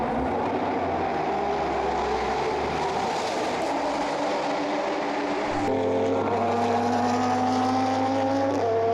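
A Lotus Elise race car pulls away from a pit stop during a 24-hour endurance race at Dubai, its engine droning loudly and steadily, then rising in pitch as it accelerates, with no voices.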